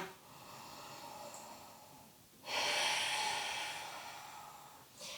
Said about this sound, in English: Deep, full ujjayi or circular breathing